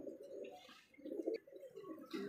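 Pigeons at a pigeon farm coo softly and continuously in low, bubbling rolls, fairly close and faint, with overlapping calls from several birds.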